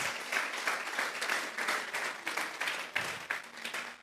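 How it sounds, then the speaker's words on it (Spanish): A church congregation claps together in a steady, dense wave of applause offered to God during a Spanish-language sermon, sustained and fairly close throughout with no talk over it. "Vamos a regalarle una ofrenda de palmas al Dios de la gloria."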